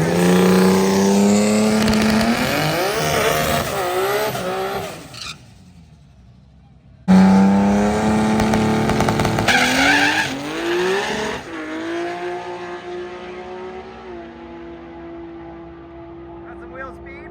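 A station wagon race car at a street car racing event accelerates hard, its engine wailing upward through the gears with tire noise. A brief cutout is followed by a second long, loud pull as a voice speaks over parts of it.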